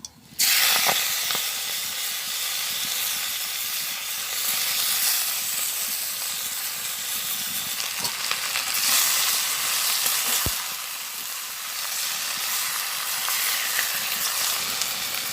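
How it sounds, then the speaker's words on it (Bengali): Malabar spinach leaves dropped into hot oil in a village kitchen pan, a loud, close, continuous hiss and sizzle that bursts up at the start and keeps crackling steadily. "এর উপরে পুঁই শাকটা দিয়ে দিই, তেল গরম হয়ে গেছে"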